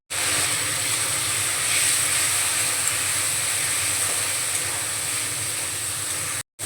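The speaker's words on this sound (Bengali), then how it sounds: "অল্প একটু জল দিচ্ছি।" A splash of water hits spice paste frying with Kashmiri chili powder, setting off a loud, steady broadband sizzle and hiss that continues evenly before cutting off abruptly.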